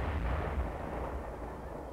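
Simulated battle noise from a military training exercise, with a dense, rumbling roar of shell bursts and explosions, steady and moderately distant, with no talking.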